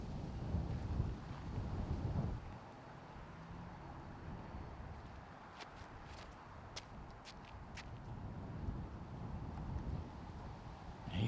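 Outdoor wind blows steadily from right to left at a disc golf tournament, a low rumbling buffet against the microphone, strongest at the start, with a few faint clicks and taps scattered through.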